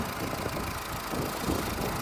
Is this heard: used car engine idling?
yes